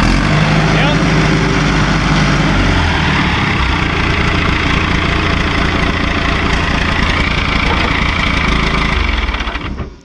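A 1976 John Deere 450C bulldozer engine with a leaking oil cooler runs loud and close, a heavy, steady diesel roar at high revs that fades sharply at the very end, with voices faintly under it.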